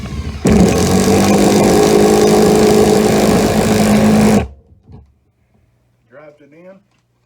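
A Hart 20-volt cordless impact driver sinks a short 1.5- to 2-inch lag bolt in one loud, close burst of about four seconds, then stops abruptly, followed by a faint rattle and a brief voice.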